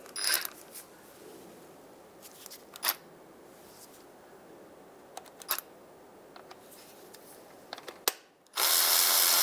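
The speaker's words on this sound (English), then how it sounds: "We're going to put our socket on that bolt. And bring our tool up to it." A socket ratchet clicks in scattered bursts while turning the bolt on the crankshaft sensor of a 2007-2015 Mazda CX-9, close by and without speech, then a loud steady whirring noise takes over at the end.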